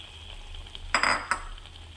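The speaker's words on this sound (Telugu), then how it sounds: "వేసుకున్నాక ఇలా మొత్తాన్ని కలుపుకోవాలండి" Fried pieces being stirred into a cashew-paste curry, soft faint sizzling with a couple of short scraping, clinking strokes of a utensil against the pan.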